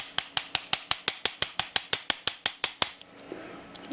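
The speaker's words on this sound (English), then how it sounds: "the M1, which is a normal standard master padlock key shape, bumps these locks" A bump key on an M1 standard Master key blank is struck repeatedly against a Master Excell disc padlock, giving about fifteen sharp, evenly spaced metallic taps close up, then a brief quieter rattle of the reset key and washers.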